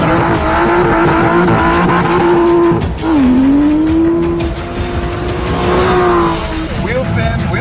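An Aston Martin V12 Vantage S spins its wheels in third gear at about 90 mph, its V12 screaming steadily at the rev limiter, loud and close, with a brief dip in pitch before climbing again amid tire noise.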